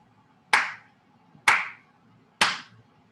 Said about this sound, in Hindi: तालियां दोज और दीज वालों के लिए।